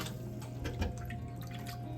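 Cold water running from a kitchen tap into a bowl of salted water for washing garden vegetables, a faint steady trickle with soft drips and splashes, nobody speaking.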